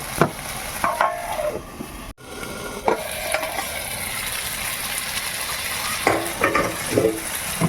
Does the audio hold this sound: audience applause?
no